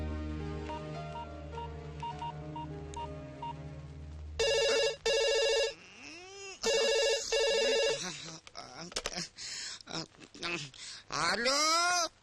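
A phone's ringing tone repeats in bursts during a call, loud and close, after a soft melodic tune and amid brief warbling noises.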